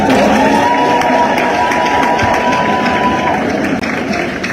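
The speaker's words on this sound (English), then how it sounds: "Now can you have a thunderous hand clap for the president?" A large outdoor crowd claps for the president at a rally, a dense continuous roar of hand claps and voices at high volume throughout.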